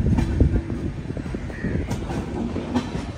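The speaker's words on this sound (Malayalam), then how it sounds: "എറണാകുളം ജംഗ്ഷൻ്റെ ഒന്നാം നമ്പർ പ്ലാറ്റ്ഫോമിലേക്കാണ് ട്രെയിൻ വരുന്നത്." Sampark Kranti Express rolling into platform one at Ernakulam Junction, a steady rumble of wheels and carriages with repeated clacks over rail joints and a brief high squeal, close and continuous.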